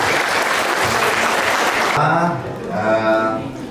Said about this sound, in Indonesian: Tepuk tangan untuk adik-adik semua.